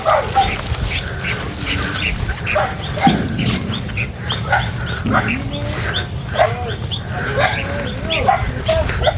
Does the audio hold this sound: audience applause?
no